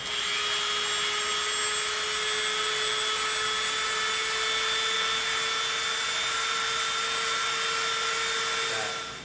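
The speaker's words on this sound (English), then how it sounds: "Come in with the Dremel." A Dremel rotary tool trims EVA foam with a steady, high-pitched whine and constant hum, running continuously at close range.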